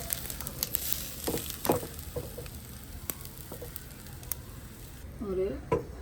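Hot mustard-seed oil poured over mango pickle crackles and sizzles in short bursts, close and moderate in loudness, with light clinks of a spoon and a voice speaking briefly.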